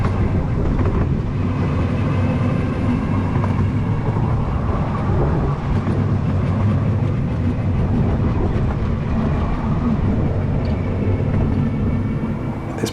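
A heritage train on the Diamond Valley Railway rumbles loudly and steadily through a crossover, with a continuous rolling roar of wheels on track and faint rhythmic clatter from the cab.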